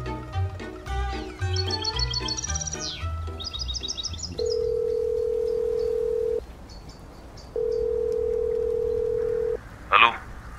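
A phone call's ringing tone sounds as two long, steady, even tones with a pause between them. Busy background sound comes before them, and a short burst of noise follows.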